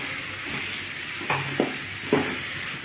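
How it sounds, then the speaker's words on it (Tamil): Spices and chili powder for a tomato curry are stirred in a pan, giving a low steady sizzle with a few short scraping strokes of the spoon against the metal. "அடுத்து ஒரு வதக்கணும்."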